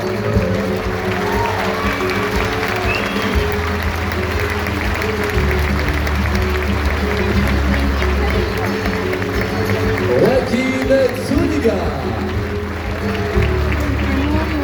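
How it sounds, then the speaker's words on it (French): A circus audience gives sustained applause for a young Brazilian artist who has just opened a festival, a dense steady wash of clapping and crowd noise, with a voice announcing over it. "vous pouvez encore applaudir ce jeune artiste brésilien qui vient d'ouvrir ce festival d'espoir"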